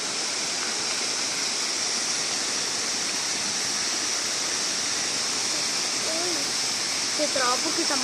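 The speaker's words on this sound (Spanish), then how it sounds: "Esta es la famosísima cascada." Waterfall at Cascada La Cebolla in Montemorelos, Nuevo León, in the rain: a steady, dense roar of falling water fills the scene throughout, with a voice speaking briefly near the end.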